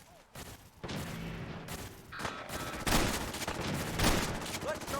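Gunfire in Fallout 4 during a modded survival fight with a raider: several loud bursts of rapid shots and heavy blasts in quick succession, overlapping and echoing, with brief lulls between volleys.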